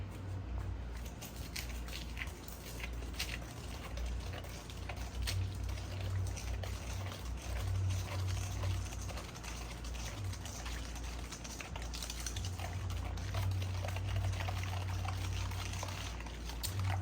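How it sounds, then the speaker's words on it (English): A whisk beats a mixture in a bowl with a continuous soft, wet swishing and patter, fairly close and steady throughout, with no voices. "Let me grab my whisk and we'll whisk"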